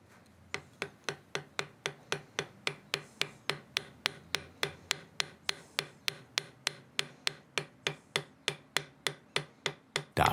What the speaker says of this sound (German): Dann darf sie endlich zum Hammer greifen und die ersten Schläge im Metall machen.